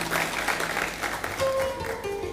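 Audience applause at a French-language university debate quarterfinal as two competing teams are introduced, a steady crowd clapping wash lasting a couple of seconds with a faint tonal hum toward the end.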